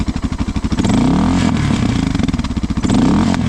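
A Suzuki DR650 motorcycle engine revs hard and loud through a throaty aftermarket exhaust, rising and falling in rapid pulses with a deep rumbling grunt close by.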